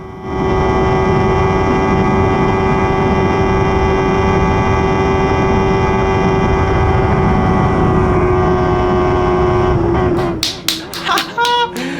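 A formula race car engine screams at full throttle through a corner in a steady, high-revving drone for about ten seconds, then cuts off into a few sharp clicks.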